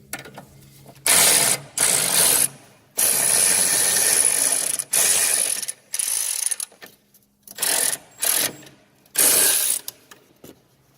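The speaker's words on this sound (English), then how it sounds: "just tighten up with a spanner" A spanner tightens a bolt on the front suspension of a 2006 Fiat Punto, a close loud ratcheting clicking in short bursts separated by pauses, with no talk over it.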